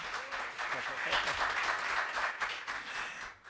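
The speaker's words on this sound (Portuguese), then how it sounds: "Queria pedir uma salva de palmas aqui para o servidor." Applause for a staff member at a public hearing of a municipal economics and finance committee, a steady wash of clapping from the room lasting several seconds with some voices mixed in, fading slightly at the end.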